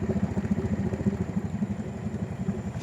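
A Honda ATV idles half-submerged in a mucky pond, a steady, rhythmic low putter with regular pulses and faint clatter, heard close, with no talk.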